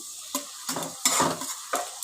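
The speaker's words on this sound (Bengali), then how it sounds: "আগে এগুলোকে একটু ভাজা করে নিই" Spices crackle and fry in a hot pan while a spoon stirs in short bursts, scraping the metal several times with brief pauses between strokes.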